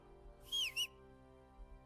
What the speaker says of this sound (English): Did not mean to whistle, that's probably a bad thing